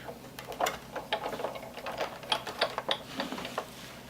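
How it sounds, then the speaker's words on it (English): A Sizzix Big Kick die-cutting machine is cranked by hand, giving a quiet run of uneven ratcheting clicks and mechanical clatter with no speech. "Take the machine, die cutting machine. I love using my big kick."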